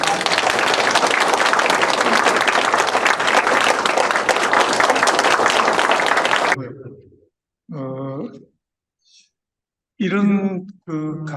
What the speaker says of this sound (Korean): 일단은 우리 어렵게 보신 권준수 교수님 박수를 좀 맞아주시기 바랍니다.